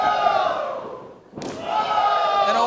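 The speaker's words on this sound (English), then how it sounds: "Chops." A sharp slapping chop lands in a wrestling ring, a single crisp impact cutting through a crowd's rising, drawn-out vocal cheer that dips just before the hit and swells again afterward.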